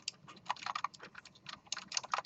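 Someone types code on a computer keyboard during a programming lecture, a steady run of quick, light key clicks at close range with no talking.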